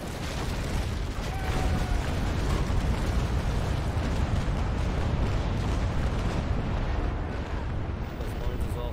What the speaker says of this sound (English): If I have a shot on, maybe you can give him a broadside